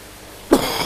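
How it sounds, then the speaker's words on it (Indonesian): A single close cough bursts out beside a koi pond after a brief quiet moment, short and sharp. "Maaf untuk batuk."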